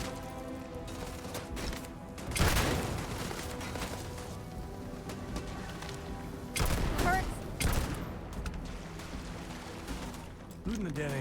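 Gunfire in a Starfield firefight, with broadband bursts around the two-second and seven-second marks over a steady bed of game sound, while a voice talks over the action.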